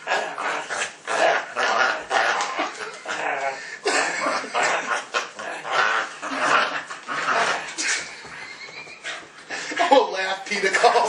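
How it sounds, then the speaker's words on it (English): A dog growls and snarls in rough, repeated bursts, close and fairly loud, while people talk and chuckle over it. "That dog's gonna tear you up."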